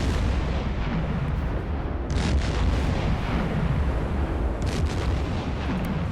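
A torpedo strikes and destroys an enemy ship in the submarine game Silent Hunter 4. The result is a continuous loud, heavy rumble of explosions, with sharper bursts breaking through around two seconds in and again near five seconds.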